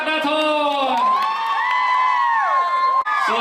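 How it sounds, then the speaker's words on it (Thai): A crowd at a Thai shopping mall stage event welcomes a singer with loud, sustained cheering and high-pitched shrieks, close and continuous throughout. "ขอเสียงปรบมือต้อนรับ"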